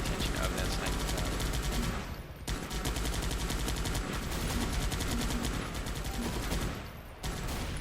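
Dense, continuous gunfire from a sniper tower and sharpshooters in a video game, rapid overlapping shots filling the whole stretch with a brief dip midway and near the end.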